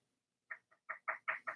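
A chicken is played as a percussion instrument, giving six short, sharp squawking clucks in an uneven, quickening rhythm, close and loud against silence.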